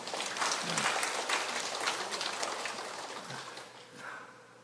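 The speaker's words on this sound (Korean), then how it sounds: "하나님께 영광의 박수를 돌리겠습니다" A church congregation applauding together, a dense wash of clapping that swells, holds, then fades toward the end, heard from within the room with no speech.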